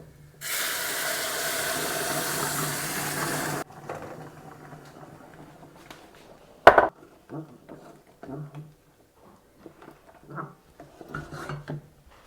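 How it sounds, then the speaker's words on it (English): A steady rush of boiling water poured into a pot of bulgur wheat for about three seconds, then quieter clinks and kitchen handling noises. "to this I'm going to add 750 ml of boiling water"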